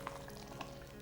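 Chicken gizzards fry in a pan, prepared the old-fashioned way, giving a steady, soft sizzle with a couple of faint pops and stirring sounds.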